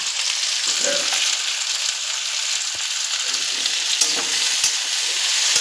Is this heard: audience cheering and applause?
no